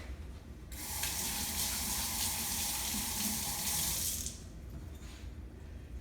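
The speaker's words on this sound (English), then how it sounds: "So let me rinse my hands real quick." Kitchen tap running while hands are rinsed during buttermilk biscuit making: a steady close water stream starts after a brief quiet moment, flows for about three and a half seconds, then shuts off.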